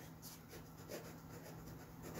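Balsa wood being filed or sanded with a block, soft repeated rasping strokes at an even rhythm, very faint and close, with no talking.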